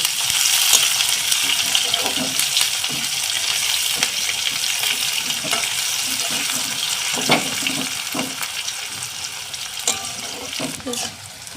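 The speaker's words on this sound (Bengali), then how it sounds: "পেঁয়াজটাকে লাল লাল করে ভেজে নেব" Chopped onion fries in a pan with a steady loud sizzle, broken by occasional clinks and scrapes of stirring throughout.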